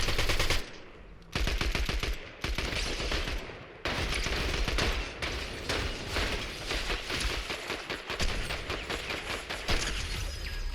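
Rapid automatic gunfire from the video game Fortnite, long loud bursts of repeated shots with brief pauses between volleys, dense and continuous across the whole stretch.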